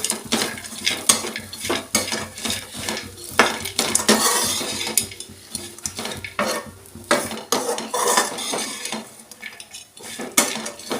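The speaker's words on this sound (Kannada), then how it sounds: "ಸ್ವಲ್ಪ ತುಪ್ಪ ಹಾಕ್ಬಿಟ್ಟು ಉತ್ತತ್ತಿನ ಪೀಸ್ ಮಾಡ್ಕೊಂಡಿದ್ವಲ್ಲ ಅದನ್ನು ಫ್ರೈ ಮಾಡ್ಕೊಳ್ಳೋಣ" Date pieces fry in ghee to a busy clatter of a metal spoon scraping and knocking the pan, close and loud in irregular bursts over a soft sizzle, with no talk.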